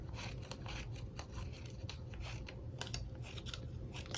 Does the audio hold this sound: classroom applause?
no